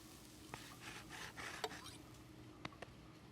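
A pepper grinder cranks out pepper over a burger in a cartoon kitchen, giving a brief gritty rasping run followed by a few sharp clicks, close and moderately quiet with no voices.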